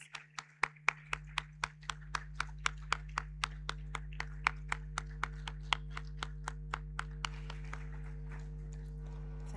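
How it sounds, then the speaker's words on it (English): An audience at a diaspora summit greets Ghana's Vice President with evenly spaced single claps, a steady rhythmic beat of about thirty claps heard over a loud low hum from a sound system. "Ladies and gentlemen, a resounding round of applause."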